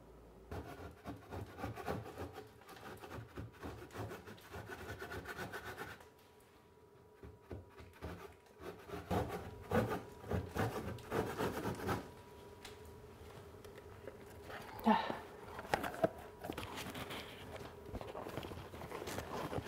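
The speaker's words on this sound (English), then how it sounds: "I'm gonna go over here and try to scrape" Stippled plaster ceiling texture being scraped off during a home renovation, with intermittent rough scraping strokes and knocks, moderately close, interrupted by a brief quiet pause and some shuffling movement.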